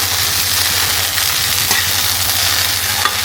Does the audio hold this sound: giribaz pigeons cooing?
no